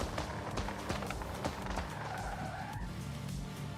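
Car braking hard and skidding in the racing game Forza Horizon 5, a loud tire squeal and scrubbing rush over engine noise, sustained for a few seconds.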